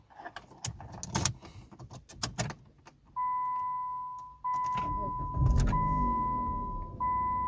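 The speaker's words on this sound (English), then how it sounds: "Now push the brake pedal and start your vehicle using your working key." A 2006-2007 Jeep Commander is started with its key: a few sharp clicks and key jingles, then a steady electronic tone and the engine cranking into a low, running hum close by.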